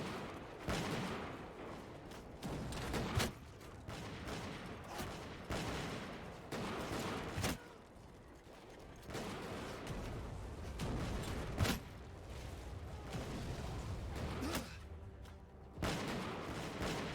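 Siege weapons and massed musket fire in the Bannerlord Europe 1700 battle game, a dense barrage of repeated gunshots and booming blasts crackling nonstop with brief lulls, loud and close throughout.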